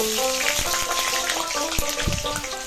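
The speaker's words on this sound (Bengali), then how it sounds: "কড়াইতে দিয়ে দিলাম সর্ষের তেল তেল গরম হলে তার মধ্যে আলুগুলো দিয়ে একটু নুন হলুদ দিয়ে ভেজে নেব" Potatoes fry with salt and turmeric in hot mustard oil in a wok, a steady close sizzle with a few soft clinks of stirring.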